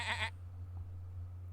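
A short, loud sheep bleat from the video game Super Auto Pets, a single cartoonish cry lasting under half a second, followed by a low steady hum.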